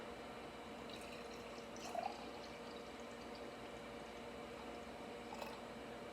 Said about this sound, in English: I'm going to pour 2 glasses of this